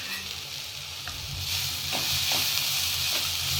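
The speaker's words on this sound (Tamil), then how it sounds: "அட் சேம் டைம் இதுவும் கொஞ்சம் ஃப்ரை ஆகிட்டுருக்கு" Vegetables with carrot sizzle in a hot pan with a little pepper, a close, continuous frying hiss that grows louder midway, broken by a few stirring scrapes.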